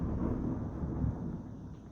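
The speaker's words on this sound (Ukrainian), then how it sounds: "Ай, блін, гримить, треба вікна закривати." Low, distant thunder rumbling steadily during a darkening daytime storm, a soft continuous roll heard from indoors with no talking.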